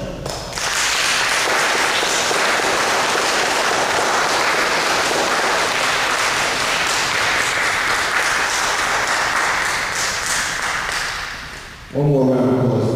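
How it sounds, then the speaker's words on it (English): Sustained, dense applause from an audience at a Toastmasters club speech meeting, loud and steady for about twelve seconds, then cutting off as a voice begins speaking. "One more round of applause for Mr. James Solomon."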